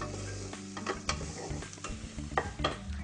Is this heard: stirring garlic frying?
yes